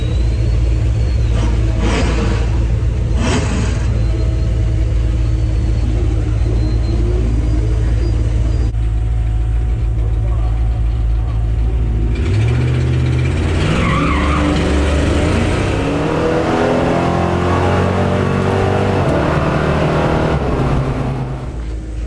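A 1968 Dodge Dart with a junkyard 318 engine launches down a drag strip, its loud roaring engine climbing through the gears with tire noise, close and continuous, with no talk.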